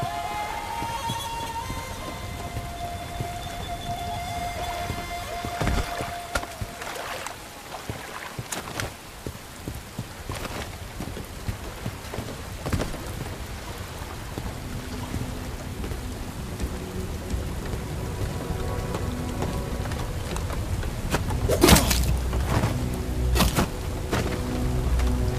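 Steady rain pours down with thunder rumbling through a combat level of the shooter Bright Memory: Infinite, the downpour continuous across the whole stretch and a louder crack of thunder breaking near the end.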